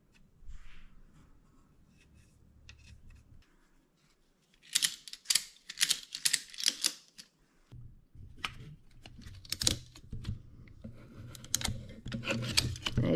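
A ratchet strap is cranked tight around a wooden glider: a run of sharp, rapid clicking bursts, fairly close, with pauses between strokes and a lower rumble near the end.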